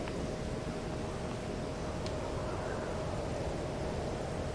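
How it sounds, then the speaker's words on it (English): Steady wind rushing outside a farm building in the video game Farming Simulator 22, a constant broadband whoosh held at an even level throughout with no talking. "You can hear the wind howling outside."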